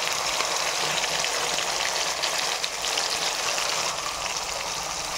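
Spice paste of roasted onion, ginger, garlic and coconut hitting hot oil, giving a dense, even hiss of frying that holds steady and fairly faint throughout, with no voices.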